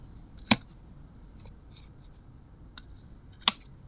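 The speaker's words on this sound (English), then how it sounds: "All you need to do is to cut from here." Two crisp, close snips of scissors cutting nichrome coil wire during an RTA atomizer build, spaced about three seconds apart with faint handling clicks between them in an otherwise quiet room.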